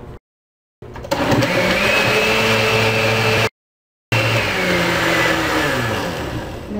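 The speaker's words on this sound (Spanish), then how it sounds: "vamos a moler el otro mango" A kitchen blender grinds mango into a thick mix, a steady loud whir running in two long bursts split by a short silent pause.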